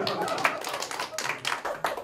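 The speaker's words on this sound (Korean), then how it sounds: "오빠 정답 박수." Hands clapping in a classroom to reward a correct answer, a quick run of dense claps over about two seconds, close and fairly loud with no voices.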